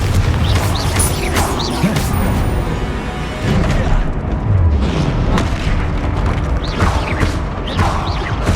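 Repeated Confringo blasting-spell explosions in Hogwarts Legacy, a series of loud booming bursts with crackling debris, one after another under ongoing game noise.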